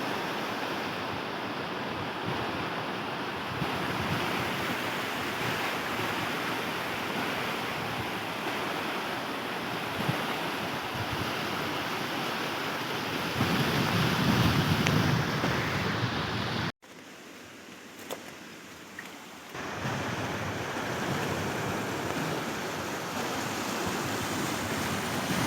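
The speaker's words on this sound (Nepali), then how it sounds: "पुलबाट आएको पानी हो यो" Floodwater pouring in from a bridge beside newly planted, submerged paddy fields in eastern Chitwan: a continuous loud rushing roar of flowing water with wind buffeting the microphone, briefly dropping and muffled partway through.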